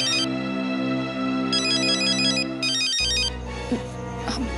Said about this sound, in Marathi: मंजिरीचा फोन आहे.